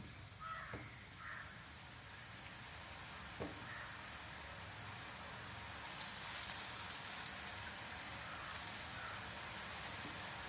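Kara boondi batter frying in hot oil, a steady soft hiss and sizzle held throughout at a fairly quiet level, with a few faint clicks.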